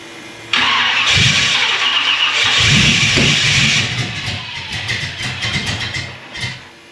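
A 1965 Malibu with a 383 stroker engine cranks and catches abruptly, roaring loud and rough for a few seconds before sputtering and fading as it floods, heard up close.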